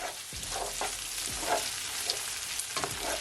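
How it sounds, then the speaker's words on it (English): Crushed garlic fries in oil in a pot for fried cabbage, a close, continuous sizzle with several spoon scrapes as it gets stirred. "Just wanna give it a stir."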